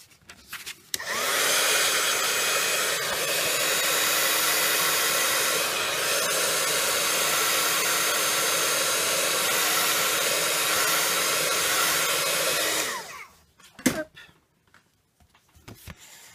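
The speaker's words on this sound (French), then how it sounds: "je vais sécher vite fait au heat gun pour pouvoir continuer la carte." A heat gun drying a handmade craft card blows a steady, loud, close whoosh for about twelve seconds, then cuts off, followed by a few faint handling clicks.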